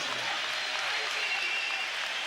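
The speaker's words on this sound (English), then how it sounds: "they both deserve a round of applause" Boxing arena crowd applauding after a twelve-round bout, a dense, even wash of clapping held at a steady level for the whole moment, moderately distant.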